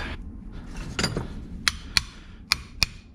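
A tool taps a bracket onto a CV axle on a 2002-2006 MINI Cooper, giving four sharp metallic clicks spaced close together after a soft handling noise, near and fairly quiet.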